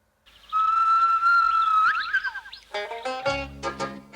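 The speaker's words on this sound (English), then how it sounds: "the clarion call of Gumleaf Whistle would echo around the world" A gumleaf whistle plays the Skippy theme: a long held shrill note bends into rapid warbling, then a quicker run of trilling notes, loud and close with no talk.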